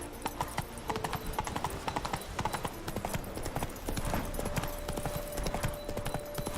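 Horse hooves pound in a fast, steady galloping rhythm in The Witcher 3, close and continuous with a faint background tone.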